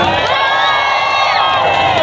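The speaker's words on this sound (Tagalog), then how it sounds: "Palakpakan naman na may kasamang sigawan." A crowd at an outdoor dance performance featuring VST Dancers and Mariposa at Liwasang Bonifacio cheers and shouts loudly, a dense continuous roar of voices, whoops and clapping.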